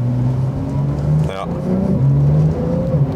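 Porsche Turbo pulling away from a standstill, a steady engine tone rising gradually under a short spoken remark, close and moderately loud.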